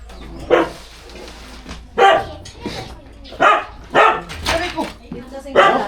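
A dog barks in five or six sharp, separate bursts spaced about a second apart, loud and close against a quiet background with low rumble.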